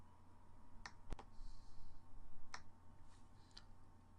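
A single crisp mouse click sounds over a quiet room hum, followed by a few fainter scattered clicks and taps.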